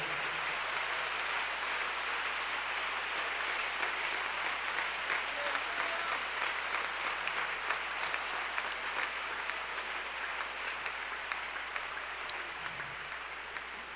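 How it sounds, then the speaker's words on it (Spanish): Church congregation at an IPUC convention in Cali applauding, a broad, sustained wash of many hands clapping at moderate distance, steady throughout with faint scattered sharper claps. "Por favor, démosle un aplauso al dueño de esta iglesia."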